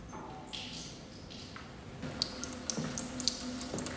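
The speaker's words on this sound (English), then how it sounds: "Maybe Lewis turned that water on" Water runs from a tap in the film Personal Shopper, a quiet steady flow with soft splashing and drips, heard from a distance with no talking.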